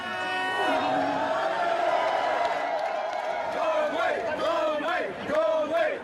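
A crowd at the 24 Hours of Le Mans race whoops and cheers loudly, with a few voices rising above the steady roar of the spectators for several seconds.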